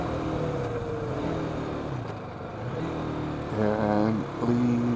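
A BMW G310GS motorcycle engine downshifting while slowing on a winding road, a steady drone that drops and then rises in pitch twice as the revs blip near the end, under wind rush.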